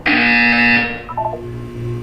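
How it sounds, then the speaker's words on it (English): Buzzer in the Portal 2 video game, a single loud, harsh electronic buzz lasting under a second, cutting off sharply and leaving a low hum and soft background tones. "You will hear a buzzer."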